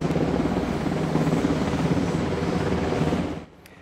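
Helicopters landing at a naval air station give a steady, loud rotor roar with dense chopping throughout, cutting down sharply near the end.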